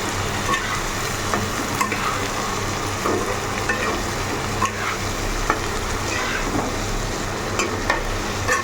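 Fish, vegetables and spices sauté in a pan for a Bengali tengra fish curry with new potatoes, radish, tomato and coriander, giving a steady, close sizzle with spoon-stirring scrapes and occasional clicks throughout, no talk.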